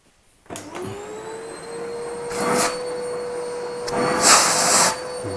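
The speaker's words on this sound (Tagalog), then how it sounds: "Gagamit ako ng vacuum para yung mga molds na lilipad, yung mga spores, yung eh, mahigop na ng vacuum" A vacuum cleaner switches on indoors and runs steadily with a loud whine while sucking up mold spores, its pitch and airflow surging twice as the nozzle moves.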